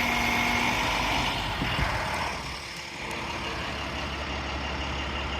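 A second utility truck pulls up and backs in at a roadside power line job, its diesel engine rumbling steadily up close with a faint hiss, and no voices.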